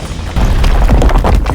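A huge blast of about 2,700 tons of stored ammonium nitrate at a working port, a loud, deep booming roar that swells after a brief lead-in and rumbles on continuously, with no one talking.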